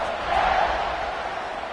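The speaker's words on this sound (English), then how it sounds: "You think this crowd's going to get loud when their defense comes on the field?" Stadium crowd noise from the College Football 26 video game before a fourth-quarter kickoff, a steady broadband roar with a brief swell of cheering, with no talk over it.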